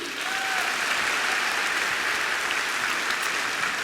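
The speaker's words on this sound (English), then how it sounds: "Behind her is Susan. Round of applause for Susan" Steady audience applause from a live crowd fills the whole stretch at an even, dense level, with no talk over it.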